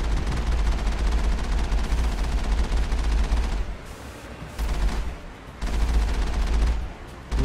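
Dense automatic gunfire in the Mass Effect video game, aimed at snipers, rattles loud and nearly nonstop. It breaks off briefly twice before the sustained volley resumes.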